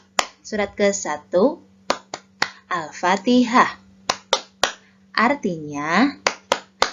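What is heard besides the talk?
rhythmic hand clapping for a children's chant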